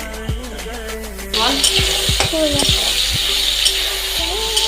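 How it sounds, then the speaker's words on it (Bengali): Tomato and onion frying in mustard oil tempered with bay leaf, a steady close sizzle with spatula scrapes and stirring clinks against the pan, while a voice talks over it. "টমেটো আর পেঁয়াজ ভাজছি প্রথমে আমি মানে সরষের তেল দিয়ে তেজপাতা ফোড়ন দিয়ে"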